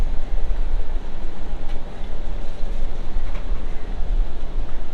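Trains in a railway shunting yard, a steady loud rumbling drone of rolling wagons with faint metallic knocks, continuous and without speech.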